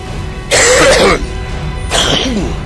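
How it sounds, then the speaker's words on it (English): A sick person coughs twice in short, harsh bursts, separated by a pause, close and loud, with faint game sounds in the background. "So I'm coughing again, even though I feel better and my voice sounds better."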